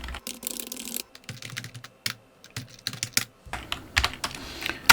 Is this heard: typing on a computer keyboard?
yes